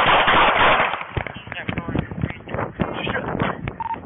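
Rapid sharp gunshot bursts from a police shooting captured on a bodycam in California, loud and close, cracking over raised voices and shouting, with a brief electronic tone near the end.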